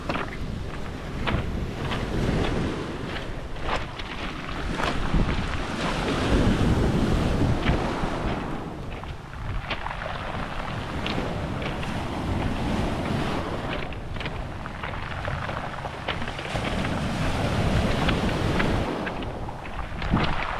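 Sea waves wash and break against a rocky shore in a steady, roaring rush with gusty wind buffeting the microphone, loud and continuous.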